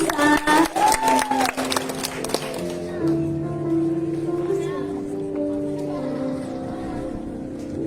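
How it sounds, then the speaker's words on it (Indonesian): A graduation ceremony crowd claps for a student: a burst of close, busy applause for a couple of seconds that gives way to soft sustained music tones and room murmur. "Tepuk tangan dulu untuk anak kita Familisa."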